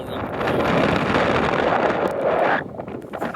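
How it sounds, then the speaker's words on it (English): Strong wind gusting across a boat tied to a mooring ball, a loud, steady roaring buffet of air on the microphone that eases slightly toward the end. "Here comes the wind."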